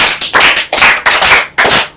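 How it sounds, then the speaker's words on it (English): A small group of children claps in several short, loud bursts close by, each burst of hand claps ending in a brief pause before the next. "Clap for yourselves."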